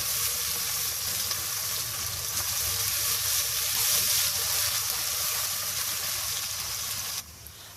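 Chicken roast ingredients sizzle and fry steadily in a pan, a loud continuous crackle and hiss held throughout before easing slightly near the end, with no one speaking.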